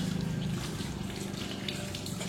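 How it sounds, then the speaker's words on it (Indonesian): Tap water runs steadily from a faucet while hands are rinsed, a continuous soft splashing hiss at moderate distance with no talking over it. "Bilas dengan air mengalir"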